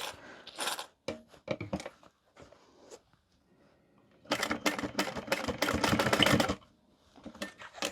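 A domestic sewing machine stitching a fabric tote laptop bag, first a few short stop-start runs of needle clatter, then a longer continuous burst that abruptly stops, close up with no talk.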